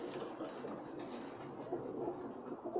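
Pakistani high-flyer pigeons coo softly and continuously, a low murmuring layer over steady background noise with no clear breaks.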